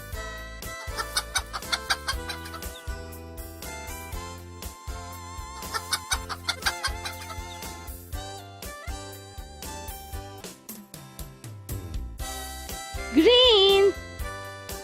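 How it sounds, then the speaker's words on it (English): A hen clucks in short repeated bursts, mixed with a lively tonal music bed and a voice speaking over it. "Hen."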